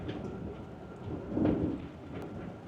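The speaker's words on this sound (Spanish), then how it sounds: "le ha pillado la lluvia" Steady heavy rain hisses throughout, with a low rumble of thunder swelling briefly in the middle; no voices.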